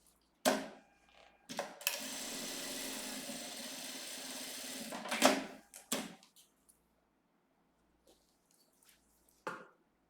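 Sewing machine stitching the side of a fabric cosmetic case, a close, steady motor whir of about three seconds, bracketed by sharp clicks and knocks and followed by near silence.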